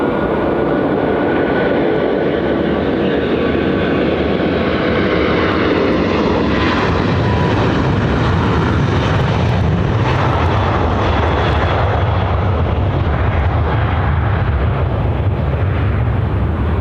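An Emirates airliner at Sydney Airport roars past loudly, a broad continuous jet engine rumble that swells and shifts in pitch as it moves, with no talking over it.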